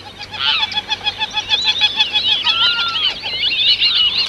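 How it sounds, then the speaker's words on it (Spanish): Water birds call while feeding on flooded ground on the Orinoco plains, a loud, close flock giving continuous honking and chattering cries that overlap without pause and with no talking. "las aves se apresuran a alimentarse en el agua que cubre el suelo"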